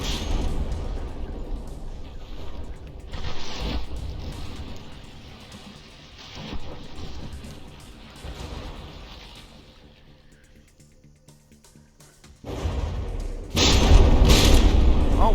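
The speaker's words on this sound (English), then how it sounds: "those shells, they're doing damage to the hull and armor" Heavy naval guns aboard battleships trading fire in the naval combat game From the Depths: deep booms and thuds rolling at irregular intervals, some distant and muffled, ending in louder, closer impacts, with someone talking over much of it.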